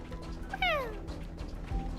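A cat in the Honkai: Star Rail video game gives a single clear, falling meow. It stands out over quiet game ambience and a low background hum.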